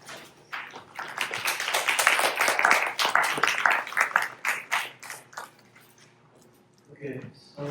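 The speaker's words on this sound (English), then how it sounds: "let's have one more round of applause to everyone." A round of applause from a high school audience at a Stanford talk, scattered claps building into a dense burst then thinning out over several seconds, with a few voices near the end.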